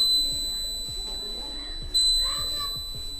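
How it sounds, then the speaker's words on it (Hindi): A laser home security alarm built as a school science project buzzes with a steady high-pitched tone, cutting out briefly and then resuming, while someone talks over it. "बहुत तेजी से लेजर के सामने से जाने पर भी थोड़ी देर तक अलार्म बजता रहता है।"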